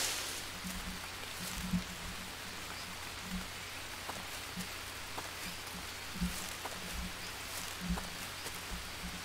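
Jungle rain in the survival game Green Hell falls in a continuous soft patter, with occasional louder drops and faint low thuds at irregular intervals; no one speaks.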